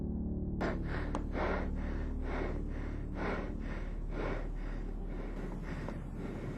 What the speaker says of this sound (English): the person recording the sighting was visibly terrified, as he can be heard breathing heavily in the video clip